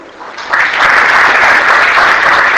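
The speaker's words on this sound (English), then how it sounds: "Give her a big clap" A youth audience at a communication skills session bursts into loud applause after a quiet start, the clapping rising sharply and holding steady as a bright, dense wash.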